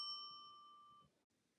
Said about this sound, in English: make sure you turn the page when you hear the bell